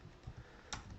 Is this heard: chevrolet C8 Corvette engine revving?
no